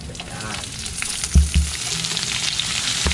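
Shrimp hit hot oil with garlic in a pan and sizzle loudly and steadily, with a couple of sharp clatters as they are added and stirred.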